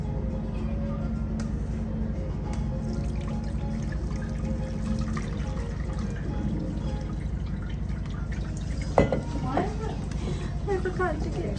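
Water trickles and splashes steadily as homemade raw-milk butter is rinsed and strained in a kitchen, with a brief clatter near the end.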